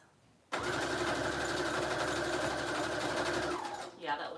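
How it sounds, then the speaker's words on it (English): An electric sewing machine stitching lace onto a small handmade bohemian journal starts abruptly and runs in one steady, fast mechanical whir for about three seconds before stopping, followed by a faint rustle. "I'm going to sew the lace on first over that blue thread that I didn't like."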